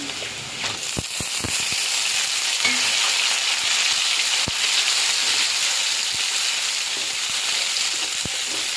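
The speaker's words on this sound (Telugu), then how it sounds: "టమోటా అయితే ఇలా బాగా ఆయిల్లో ఫ్రై అవ్వాలి." Tomatoes frying in hot oil, a loud, steady hiss of sizzling with a few sharp pops and clicks near the start.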